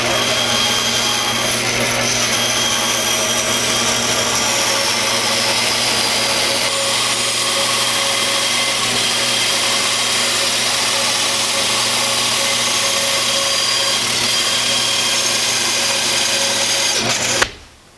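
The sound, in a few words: bandsaw cutting out hickory bow blank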